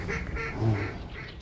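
Ducks quacking at Horicon Marsh, a large cattail marsh in Wisconsin during a duck hunt, a few soft calls repeating close by with no voices over them.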